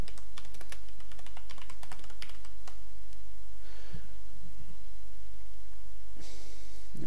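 Fast typing on a computer keyboard to enter a short slogan, a dense burst of close key clicks that thins out, then a few isolated taps and rustles, with no voices.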